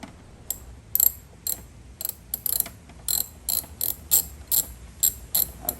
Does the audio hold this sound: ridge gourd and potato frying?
no